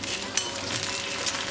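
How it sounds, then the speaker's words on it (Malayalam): Curry leaves dropped into hot oil tempering for Kerala erissery at an Onam sadya give a brief, close crackling sizzle with small clinks. "ഇതിലേക്ക് കറിവേപ്പില ഇട്ട് കൊടുക്കാം."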